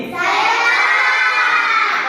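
Classroom applause for a classmate, a dense, steady wash of clapping and children's cheering that fills the room for about two seconds at close range.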